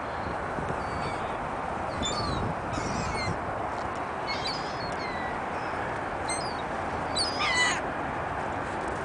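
Seagulls call from a frozen lake in winter, with scattered harsh squawks and cries over steady broadband outdoor noise, some near and some farther off.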